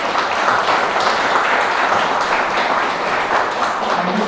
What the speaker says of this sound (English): So can we have a huge applause for sir?